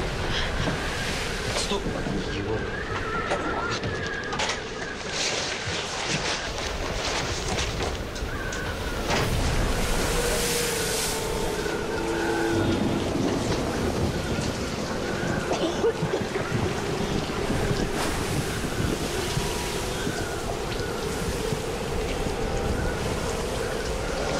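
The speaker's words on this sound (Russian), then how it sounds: "Посмотри, какие волны." Rough sea waves washing around a ship, a continuous broadband surge and wash with wind, heard under raised, anxious voices talking throughout.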